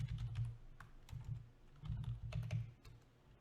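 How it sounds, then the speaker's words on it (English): Quick typing on a computer keyboard while coding, a soft close patter of keystrokes in uneven bursts, with no voices. "I'm just going to get them typed out real quick."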